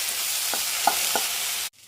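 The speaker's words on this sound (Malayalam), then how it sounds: "ഒന്ന് ഇളക്കി കൊടുക്കണം വെണ്ടയ്ക്കയും സവാളയും ഒന്ന് വാടി വരട്ടെ" Okra and onions frying in a pan while being stirred, giving a steady close sizzle with a few soft spoon scrapes, then cutting off abruptly near the end.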